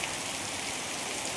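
Heavy rain in Porbandar comes down as a dense, even hiss of drops on surfaces, steady and moderately loud for a brief stretch, with no voices.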